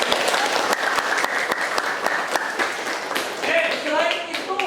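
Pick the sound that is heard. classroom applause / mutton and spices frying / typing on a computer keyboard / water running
classroom applause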